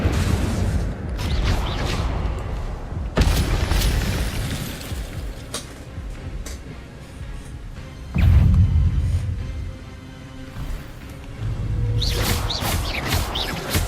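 Incendio fire spell blasts in Hogwarts Legacy, several loud bursting impacts at irregular intervals amid other spell effects and game sounds, with no talk.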